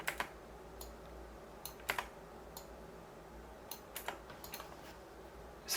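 Sharp clicks from a computer mouse or keyboard during SolidWorks CAD modelling, arriving in scattered single and double taps with pauses between them, close and fairly quiet with no talking.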